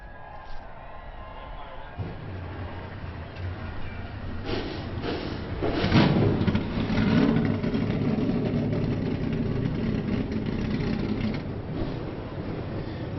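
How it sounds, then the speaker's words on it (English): Forty NASCAR Xfinity Series race car engines fire up at Atlanta and settle into a loud, rumbling idle, swelling as more cars start, with crowd and announcer noise mixed in. "The engines have fired, and 40 Xfinity Series drivers ready to do battle at Atlanta."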